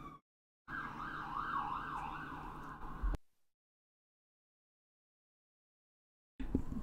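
A wailing emergency siren rises and falls for a few seconds nearby, then cuts off abruptly into silence before noise returns at the end.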